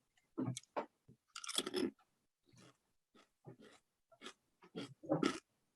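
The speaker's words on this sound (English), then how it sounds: "just chewing in front of me now." A person chewing food close up, with wet, crunchy bites and smacking in irregular bursts separated by short silences, and no speech.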